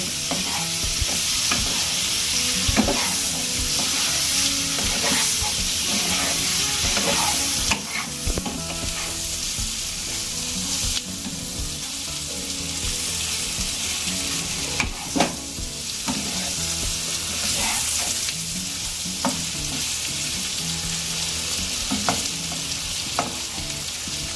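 Paneer cubes fry noisily in a pan while a spatula stirs and scrapes through them, a loud continuous sizzle broken by regular clanks and knocks.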